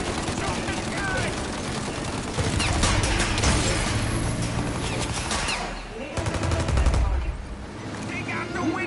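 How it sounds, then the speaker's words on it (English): Sustained automatic gunfire in a PS4 video game, rapid bursts that clatter almost continuously, briefly thin out, then resume loud and close, with game voices shouting over the shooting. "Shoot out your gun when there's a break in the fire!"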